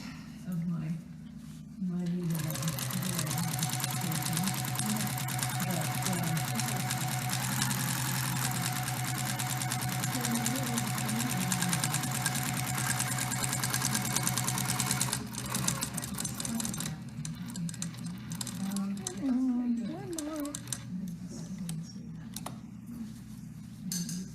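A sewing machine stitches through quilt layers at a guild meeting, running steadily and loud for most of the stretch with a brief pause near the end, needle-down pivots at the corner, and a voice talking over it.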